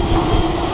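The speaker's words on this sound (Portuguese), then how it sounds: "Galera, avião!" A small aircraft flies over a skydiving drop zone, its engine a loud, steady broadband roar that fills the whole moment without a break.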